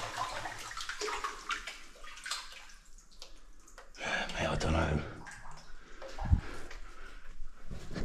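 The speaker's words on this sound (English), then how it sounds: "Ready? Watch a splash." A rock thrown down a flooded mineshaft lands with a deep splash midway, with gurgling water noise around it while people talk nearby throughout.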